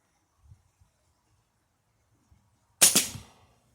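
A .22 Ruger Targis Hunter Max air rifle pellet striking a water-filled orange juice jar, one sharp cracking impact with a short decaying tail, preceded by faint soft knocks.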